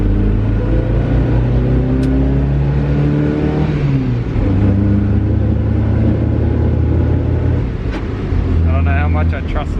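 A car engine revving hard on its first start in over two years, a loud throaty rumble that climbs and falls in pitch with a brief dip midway, with someone talking over it.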